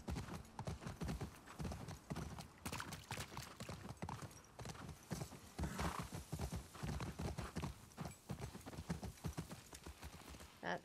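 Horse hooves clip-clop in a quick, steady rhythm at close range in the video game The Last of Us Part 2, continuing throughout with faint background ambience and no voices.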